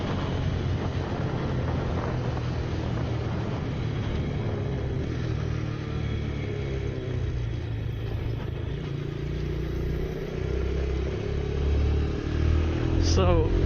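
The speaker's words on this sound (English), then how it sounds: "So this is basically full throttle right here, and I'm in third." A 2018 Venom X22 125cc four-speed motorcycle runs at full throttle in third gear, its steady engine drone heavily mixed with loud wind buffeting throughout, rising slightly near the end.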